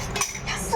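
Metal spoon clinking against a pot while mixing cardamom into a mango aamras preparation at home, a few light close clinks over faint background noise.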